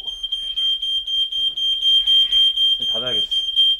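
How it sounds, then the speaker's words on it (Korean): A sensitive smoke alarm in a log cabin shrills continuously, one unbroken high-pitched tone, while a person talks briefly under it toward the end. "숙소가 통나무 집이다 보니 약간만 연기가 나도 경보가 울려댑니다."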